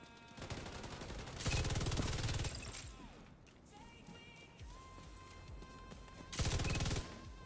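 Bursts of light machine gun fire in The Division 2 video game, two loud sustained volleys separated by quieter stretches of game ambience and smaller noises.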